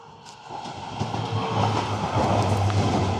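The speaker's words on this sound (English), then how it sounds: "That's one of the new trains." A train rolls past in Boyle Heights, Los Angeles, near Mariachi Plaza during a Cinco de Mayo street festival, making a steady, swelling low rumble with faint rail clatter against the street ambience.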